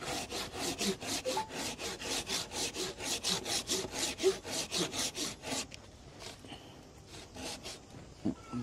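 Rhythmic back-and-forth rasping of a hand saw cutting through wood, close and steady for several seconds before stopping, followed by quieter handling noises.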